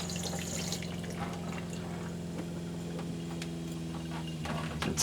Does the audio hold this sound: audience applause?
no